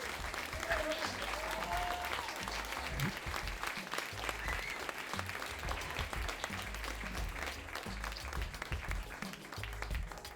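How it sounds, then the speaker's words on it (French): Steady applause comes from a live podcast audience for a history guest. The clapping is even and fairly soft, heard from a distance, with some crowd noise mixed in. "N'hésitez pas à l'applaudir, vraiment."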